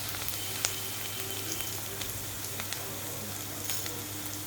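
Onion and garlic frying in a pan, a soft, even sizzle with faint scattered pops and light scraping, quiet and close.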